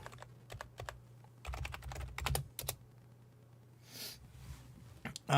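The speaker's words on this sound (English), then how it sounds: "I'm just typing them" Keys clatter in quick irregular bursts on a computer keyboard, close and fairly quiet, with a brief rustle and a sharp sound at the end.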